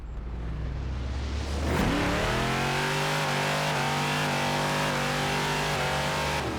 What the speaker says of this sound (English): Nice, finally has that V8 sound that we were looking for.